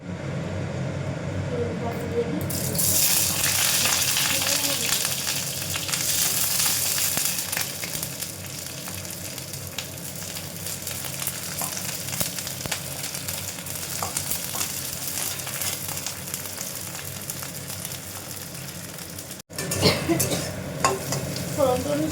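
Taro vegetable curry sizzles and fries in oil in a pan while a spoon stirs it, a steady close frying hiss with scraping, someone speaking over it.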